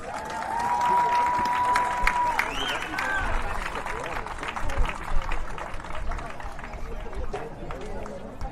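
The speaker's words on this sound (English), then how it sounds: "How about a big round of applause?" A crowd applauds at a high school sports awards ceremony right after award winners are named. Clapping and cheering rise and continue at a moderate level, with background chatter mixed in.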